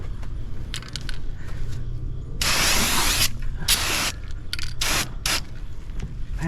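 Spray can of flat black paint misting onto a car at home, several long loud hissing bursts with shorter spurts between them over a low steady background rumble.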